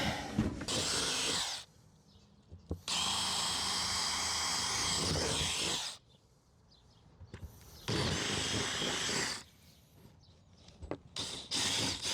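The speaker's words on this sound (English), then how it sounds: "And go drill some holes." A power drill whirs in three long bursts, loud and close, with short pauses between runs.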